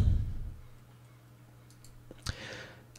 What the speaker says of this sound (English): you can right click and copy it